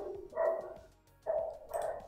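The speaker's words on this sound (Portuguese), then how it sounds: "Meu Deus, cachorros." Dogs bark somewhere in the background during a card game, a few short muffled barks in two bursts, moderately faint.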